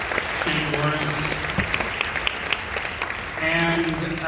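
Clapping from an audience at a film Q&A runs steadily beneath a voice that talks over it, the applause staying fairly loud throughout.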